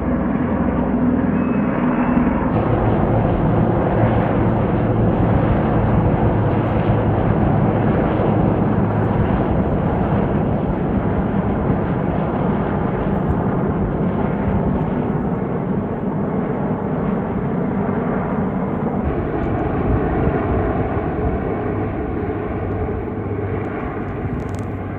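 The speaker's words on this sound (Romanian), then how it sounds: "Trec trei elicoptere." Three helicopters pass overhead above the hills of Sighișoara, making a continuous loud, steady engine-and-rotor rumble that fills the whole stretch with little change in level.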